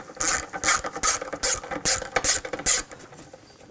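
A ratchet with a 10mm socket loosens nuts on a 2000-2006 BMW X5 during front strut replacement, giving about six close, rhythmic bursts of rasping clicks before falling quiet.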